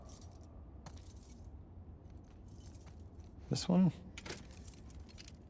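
Keys jangle in the video game The Last of Us Part II as keys are tried in a lock, with a short metallic rattle burst over quiet ambience and brief speech nearby.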